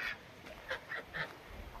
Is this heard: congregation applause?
no